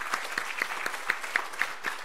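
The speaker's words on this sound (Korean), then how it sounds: "오늘만 한번 큰 소리로 아멘 하면서 박수 한번 하십시다" Church congregation clapping in unison during a Korean Presbyterian service, a short run of roughly rhythmic, evenly spaced claps at moderate loudness.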